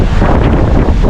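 Powerful wind at Bukana, lightly rainy, blasts across the microphone as a loud, close, unbroken rumble that surges slightly, with no one talking.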